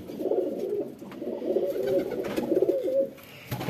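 Pigeons coo steadily in a low, throaty rolling murmur, close and continuous for the whole stretch, with overlapping calls from a flock kept in a newly built open pigeon enclosure.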